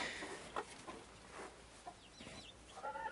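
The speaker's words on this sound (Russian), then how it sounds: "Вот такие вот у меня цыплята." A hen clucks softly among chicks, with faint high peeps and short low clucks scattered over quiet background noise.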